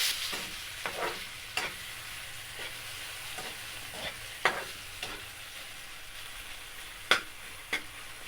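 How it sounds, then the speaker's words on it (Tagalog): Garlic, onion and tomato fry in a pan while a spoon stirs them, giving scattered sharp scrapes and taps against the metal over a soft, steady sizzle, faint and with no voices. "Halo-haloin natin yung bawang,"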